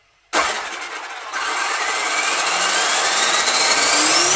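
A Traxxas X-Maxx electric RC car's motor whines up under throttle, starting abruptly and then climbing in pitch as the drive spins faster, loud and steady with no voices.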